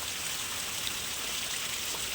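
Rainwater streams and splashes steadily off the edge of a roof sheet amid falling rain, a constant rushing hiss with no talking.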